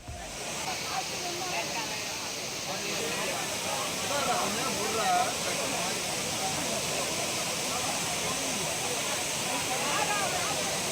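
Courtallam falls roars in a loud, steady, broadband rush of falling water that runs unbroken throughout.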